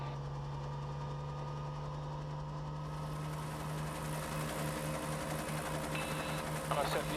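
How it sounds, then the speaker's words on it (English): Piston engine of a Robinson helicopter spinning up as the collective throttle is rolled on, a steady droning hum with tonal whine that grows fuller and louder partway through, heard indoors-close with faint rattles near the end. "you can hear the engine accelerate."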